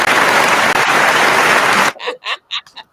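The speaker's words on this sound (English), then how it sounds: "I want to hear that clapping, Marquise." Loud, dense audience clapping at a soul line dance session fills the first two seconds, then cuts off abruptly into a few short, separate bursts of sound.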